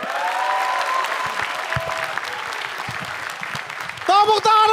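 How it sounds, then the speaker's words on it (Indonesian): Audience applause for comedian Mukmin at a stand-up comedy competition semifinal: loud, steady clapping fills the whole stretch, with a voice rising over it near the end. "Tepuk tangan untuk Mukmin."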